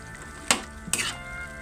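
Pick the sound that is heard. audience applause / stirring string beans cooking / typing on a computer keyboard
stirring string beans cooking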